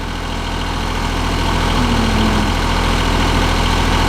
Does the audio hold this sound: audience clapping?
no